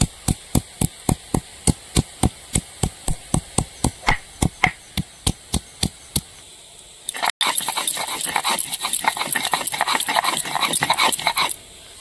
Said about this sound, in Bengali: প্রথমে আদাটা বেটে নেব।